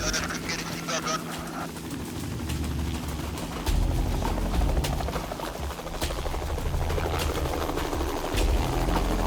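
A helicopter waiting at a forest clearing during a Malawi wildlife rescue, its low steady rotor drone running continuously and fairly close, with other noise and faint bird honks mixed in.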